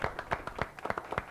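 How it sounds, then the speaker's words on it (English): A small group claps after a game in a tournament setting, a modest round of scattered, uneven handclaps that stays fairly quiet throughout the short burst. "Let's give a round of applause"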